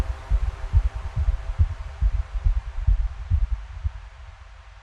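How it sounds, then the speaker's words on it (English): A deep, thudding heartbeat effect in a music cue pulses steadily, with close, booming low beats in a regular rhythm that fade slightly toward the end. "And a heartbeat again at the end."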